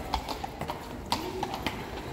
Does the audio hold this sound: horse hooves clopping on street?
yes